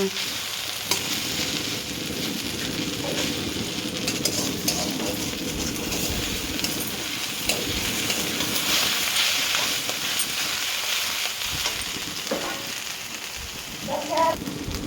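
Saag greens with okra frying in a pan, a steady close sizzle and crackle running throughout with occasional soft stirring clinks, no talk heard.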